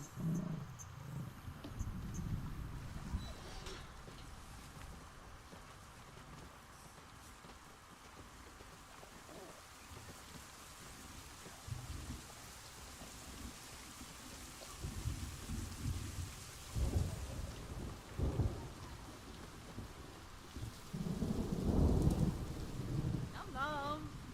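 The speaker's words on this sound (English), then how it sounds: "Oh, rain. That's a rarity here in the desert." Steady rain falls with low rumbles of thunder in a desert-set zoo management video game, a continuous wash of patter broken by heavier rolling swells near the end.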